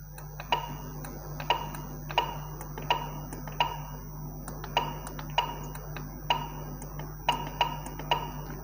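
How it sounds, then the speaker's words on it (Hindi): Keypad buttons on a Realtime T-52f+ device being pressed, a steady series of sharp plastic clicks, each paired with a short electronic beep, roughly one per second over a constant low hum. "जैसे अभी अगर हम टाइपिंग स्टार्ट कर दें तो ये हमारा अल्फ़ाबेट्स टाइप हो रहा है।"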